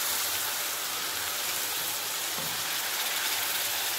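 Water hits a frying spice paste of cumin powder, salt and dried red chili powder, producing a loud, dense, steady sizzling hiss that fills the whole moment without pause.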